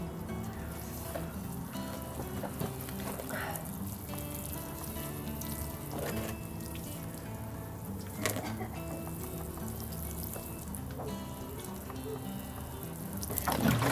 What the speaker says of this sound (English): all that we're left to do is just give it a good soak in.